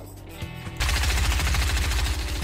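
Fortnite gunfire shot from the hip bursts in suddenly as a fast, evenly spaced automatic rattle, loud and close, following a brief moment of quieter game ambience.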